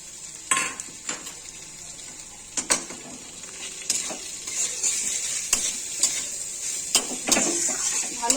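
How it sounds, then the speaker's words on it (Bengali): Potatoes, onions and garlic paste are stirred in a frying pan: a continuous sizzle with a spoon scraping and clinking against the metal pan at irregular intervals, close up. "ভালো করে রসুন বাটাটা যেন সমস্ত আলু পেঁয়াজের সাথে মিশে যায়, নাড়াচাড়া করতে থাকবো হালকা হাতে"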